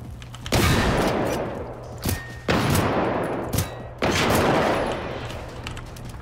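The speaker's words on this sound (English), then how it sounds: "Actually quite quick, this shotgun. I mean, it's not that hard to fast pump a shotgun." Shotgun blasts in Generation Zero: three loud, booming shots spaced about one and a half seconds apart, each with a long decaying tail, plus a couple of smaller clicks or thumps between them, no talking.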